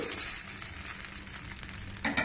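Semolina dosa batter made with curd sizzles on a hot pan, a steady close hiss and crackle with a brief clink near the end.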